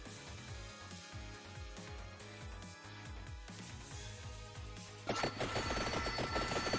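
Pistol gunfire in Vampire Survivors, rapid repeated shots in a steady rhythm over game music, growing denser and louder toward the end, with no talk.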